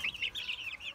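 Month-old chicks and young roosters let out a rapid string of short, high peeping clucks, close by and moderately loud in a single brief burst with no speech.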